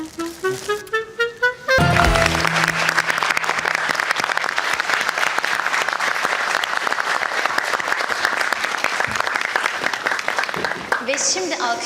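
Sustained audience applause at a Turkish mathematics championship award ceremony, loud and dense, following a brief musical or tonal passage at the start and continuing steadily for about ten seconds.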